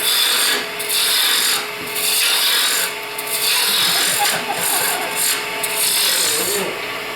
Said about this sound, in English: I'm going to turn a smaller version of this so that end's a little bit tapered, so I'll go ahead and just hog that wood out